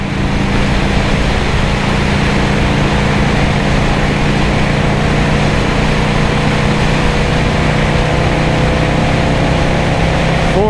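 1984 Harley Davidson FLT Tour Glide engine droning loud and steady while riding a highway in fourth gear around 4,000 RPM, with heavy wind rush throughout.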